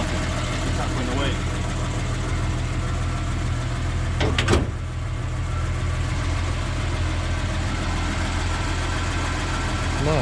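A Ford XW with a 250 pre-crossflow six-cylinder, started for the first time in 17 years, idles with a steady low rumble; a brief sharp knock cuts through midway.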